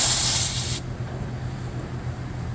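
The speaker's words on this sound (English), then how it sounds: "You don't zero it now because you need to purge" Refrigerant gas hisses loudly from a hose being purged while an evaporator coil and filter dryer are replaced. The sharp spray cuts off abruptly under a second in, leaving a steady low hum and softer background hiss.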